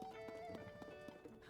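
A white horse in the video game Zelda: Tears of the Kingdom trots with steady, evenly spaced hoof clip-clops. Faint music sustains underneath.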